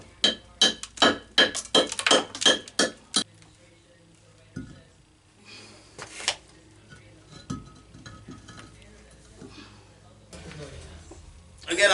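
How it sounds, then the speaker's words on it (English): A concrete block being cut by chipping at it with a hammer, heard as a rapid run of about a dozen sharp, loud knocks, then quieter scattered taps and scraping, with someone talking through the later part. "you can just cut a block by chipping at it"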